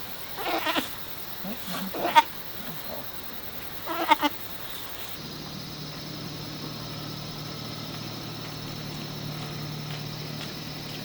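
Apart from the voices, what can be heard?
goat bleating, being taken to sell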